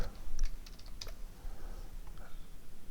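Bursts of typing on a computer keyboard, quick uneven clicks clustered near the start and again around the one-second mark, then sparser taps over low room hum; no voices.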